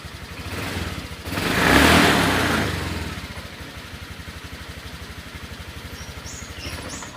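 A Honda Vario 150 scooter with a throttle position sensor fault that makes it hard to ride runs close by. A steady pulsing idle swells into a rev and then settles back to idle.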